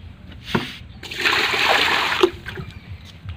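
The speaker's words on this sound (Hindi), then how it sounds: "पानी थोड़ा ले लें," Water is poured into a sprayer tank to mix herbicide for a sugarcane field, heard as a short, moderately loud splashing gush after a brief knock, then dribbling off.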